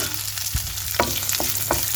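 Cubed onions sauté in a hot pan, giving a continuous bright sizzle broken by a few sharp stirring clicks and scrapes, with no one talking.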